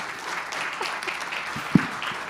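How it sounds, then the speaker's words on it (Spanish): An audience at a neotropical carnivore symposium gives a brief, steady patter of applause, moderately distant and fairly faint, with a single sharp knock near the end. "el más fuerte aplauso de toda la jornada"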